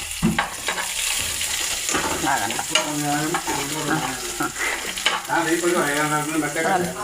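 Green chilies and onions sizzling and frying in a pan while being stirred, a steady crackle with scraping strokes throughout, close up, with a voice talking over it.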